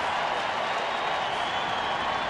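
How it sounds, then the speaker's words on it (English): A baseball crowd at a Tigers home game in Detroit keeps up a steady, dense roar of cheering and clapping that fills the whole stretch without letup. "Crowd's starting to get into it now."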